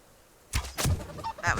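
A chicken in the survival game Subsistence gives a few short, harsh honking clucks, fairly close and distinct, following a moment of near silence.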